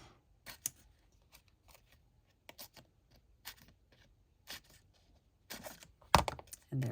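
Scissors snipping through card pieces for a handmade Christmas card, a series of short, crisp separate cuts, close and fairly quiet, spaced irregularly, with a quicker cluster of snips near the end.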